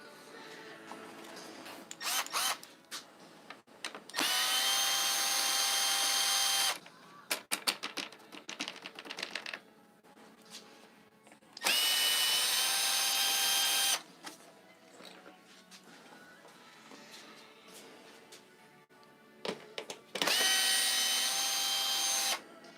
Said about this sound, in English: we're going to start unscrewing all of this side.